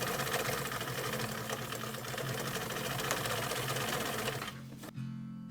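A sewing machine runs continuously, stitching a seam on a fabric face mask with a fast, even mechanical whir, then stops abruptly just before the end.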